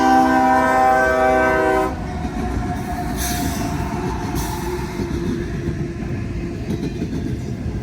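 A loud train horn blares for about two seconds, then a heavy, steady rumble of a freight train rolling past close by.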